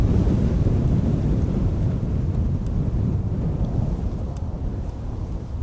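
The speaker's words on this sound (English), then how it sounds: "Wind is definitely not slowing down." Strong wind buffeting outdoors at Schiphol Airport, a loud continuous low rumble and roar of gusts against the microphone that holds steady throughout, with no voices.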